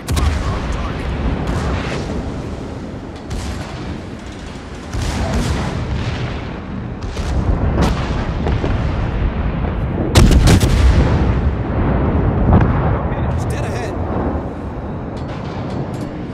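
Heavy naval gunfire from a Cleveland-class cruiser in World of Warships, with repeated loud booming salvos and rumbling blasts layered over constant battle noise, a strong burst near the middle standing out above the steady din.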